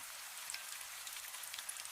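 Steady rain falling outside a cafe window, a quiet, even hiss sprinkled with light drop patters, continuous and without speech.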